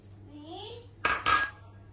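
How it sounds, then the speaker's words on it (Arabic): Bread dough for a Horani loaf being kneaded in a metal bowl, with two sharp clattering knocks of the bowl after a quiet stretch. "هلا بتتابعوني وانا بعجن العجينه"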